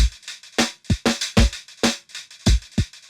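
A fast, choppy New Orleans bounce drum loop sped up, punchy kicks and bright snare and hi-hat hits repeating in a hurried, clipped rhythm, loud and close.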